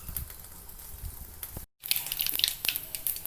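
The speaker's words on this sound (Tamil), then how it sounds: "கடுகு பொரிஞ்சிச்சு." Mustard seeds spluttering in hot oil, a dense run of quick, light crackles and pops that briefly drops out and then returns slightly louder.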